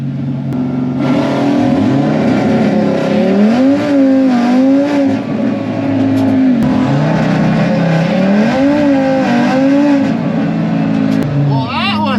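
An Audi RS3 launching hard at a drag strip, the engine loud and close, revving up and down in repeated surges as the tires spin out, with a person talking over it.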